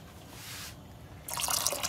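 Filtered water pours into a pot of pink beans, a soft trickle that swells into a brighter, louder splash near the end, with no talking.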